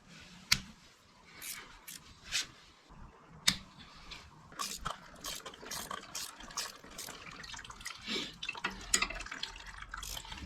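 Coolant drains from a BMW F650GS Dakar motorcycle during a water pump job, giving quiet irregular drips and splashes with a faint trickle underneath, close by.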